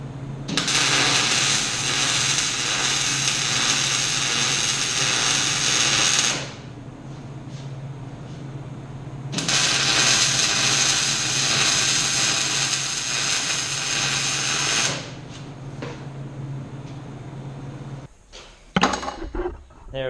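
Wire-feed MIG welding of tabs on a Toyota 4Runner pre-runner front bumper, two crackling sizzling bursts of about six seconds each close up, separated by a pause, ending with a few clanks.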